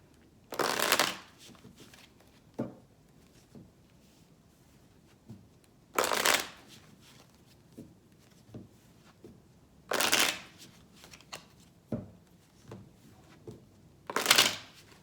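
Someone shuffles a chakra oracle card deck at close range. Four crisp bursts of riffling cards are spaced several seconds apart, with faint soft taps and handling noises between them.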